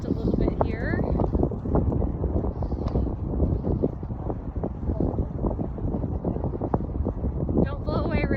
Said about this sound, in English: Wind picked up just a little bit here.